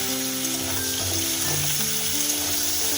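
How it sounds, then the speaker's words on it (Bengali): Cauliflower pieces fry vigorously in oil over a raised gas flame, producing a loud, dense, unbroken sizzle up close, with faint background music beneath it. "ফুলকপিগুলো ভাজা হয়ে গেছে"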